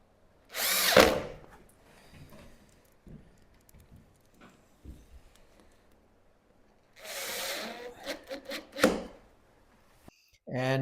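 A power drill drives screws into a board set aside to dry overnight, with two loud whirring bursts near the start and later in the clip, some light knocks and handling between them, and a voice talking.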